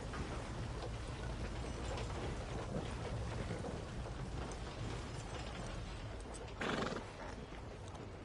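A horse in Red Dead Redemption 2 trots with soft clip-clop hooves over windy, gusty ambience, then gives one short whinny near the end, all fairly faint.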